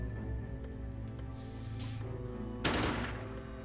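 Gunfire from a soldier's weapon in the strategy game Xenonauts rings out as a sharp burst of shots near the end. It sits over a steady low game-music drone and faint electronic chirps, with nobody speaking.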